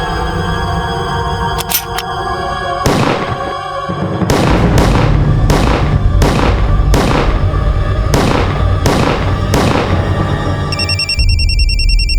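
Gunfire rings out during a tense dramatized crime standoff: a rapid series of loud, sharp shots, roughly a dozen cracks spaced under a second apart, over a dense musical score.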